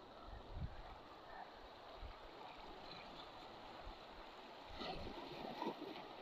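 Steady seaside ambience at the shore on a sunny day, a broad continuous wash of surf and wind with a few soft swells of louder water, fairly quiet overall and with no one talking.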